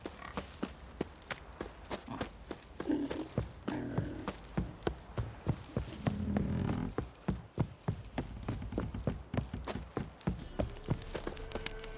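Horses clip-clop steadily in The Witcher 3, hooves striking in a regular walking rhythm up close, with faint game ambience behind them.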